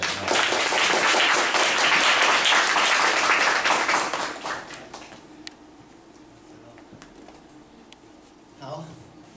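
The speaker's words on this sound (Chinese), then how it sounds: "我们先热烈掌声欢迎李曲中先生" Loud applause from a seminar audience welcoming a guest speaker, dense clapping for about four seconds that then thins and fades into quieter room noise.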